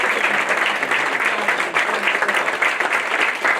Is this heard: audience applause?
yes